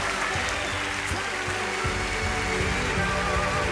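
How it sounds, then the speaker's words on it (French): Long, sustained applause from a large audience at the France's Got Talent show, a dense and loud wash of clapping with no let-up. "Il n'y a jamais eu un applaudissement aussi long pour aucun artiste depuis 8 ans."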